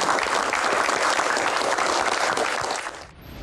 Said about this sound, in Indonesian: Tepuk tangan dulu untuk bos pertama